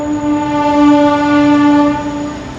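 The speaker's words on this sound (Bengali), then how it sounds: "স্টেশনের খুব কাছে হওয়াতে এখানে ট্রেনের শব্দ আপনারা শুনতে পাচ্ছেন" A train near a station in Ghatshila, reached by rail from Howrah, sounds a long, loud sustained horn of steady harmonic tone, holding strong throughout with no talk.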